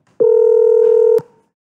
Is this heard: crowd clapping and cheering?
no